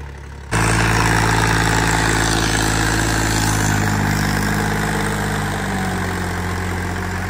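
A John Deere 5038D turbo tractor engine starts after a moment of quiet, then settles into a loud, steady diesel idle with a deep low rumble close by.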